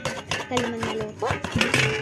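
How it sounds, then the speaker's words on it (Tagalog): Dishes and plates clinking and clattering while being washed by hand, several sharp ceramic and metal knocks in quick irregular succession, close by with faint talk in the background. "Hugas na akong pinggan"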